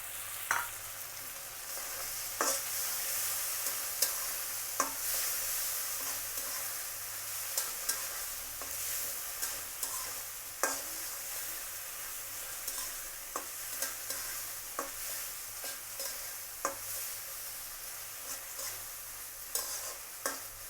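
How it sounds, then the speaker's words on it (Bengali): Shrimp and potatoes frying in a pan with tomatoes and chili, a steady broadband sizzle running throughout with regular sharp scrape-and-stir clicks of a utensil, fairly quiet and close, no talking. "এখন আমি টমেটো এবং মরিচ দিয়ে দেবো"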